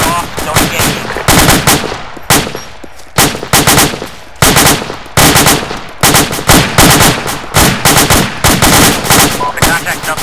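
Sustained gunfire in the military game ArmA II: rapid bursts of machine-gun and rifle fire in close, loud, repeated volleys with brief gaps, nearly continuous, and occasional radio voices under the shots.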